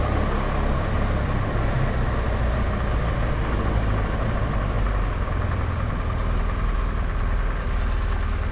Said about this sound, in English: Look at those scooters, wow.